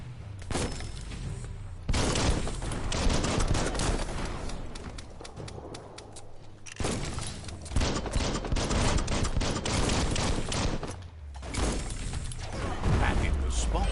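A bomb lobber weapon fires in the action game Biomutant, bursts of explosive blasts and mechanical clatter coming in loud clusters separated by brief lulls, with a voice talking over parts of it.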